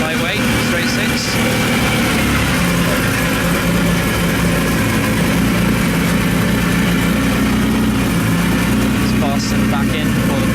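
The aluminium straight-six of a Jaguar Lightweight E-Type runs at a steady idle after starting, with a loud, constant mechanical drone and rumble filling the whole stretch, while people talk faintly beneath it.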